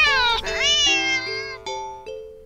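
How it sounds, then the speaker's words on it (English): A cat gives a sharp, drawn-out meow up close, rising then falling in pitch, followed by a lingering tonal hum with a few soft clicks. "the cat meows sharply at you and dashes off around the corner and into the hall"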